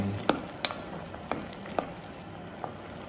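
Squid stirred with chili powder in a frying pan, a steady low sizzle punctuated by about six distinct spoon-on-pan taps and scrapes spread across the moment, close and alone.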